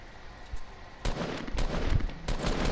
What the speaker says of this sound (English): I'm minigunning.